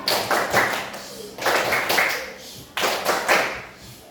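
Elementary schoolchildren in a fifth-grade classroom clap a patterned rhythm together, three bursts of quick claps separated by short pauses, close and fairly loud in a lively room.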